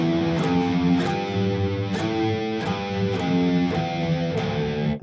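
Distorted electric guitar in drop D tuning outlining a minor scale: sustained, crunchy notes stepping in a steady rhythm with each pick attack clear, loud and close with no talking.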